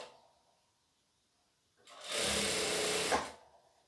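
A sewing machine stitching two fabric pieces joined right side to right side for a Christmas makeup pouch, starting after quiet, running in one loud steady whir for about a second and a half, then stopping.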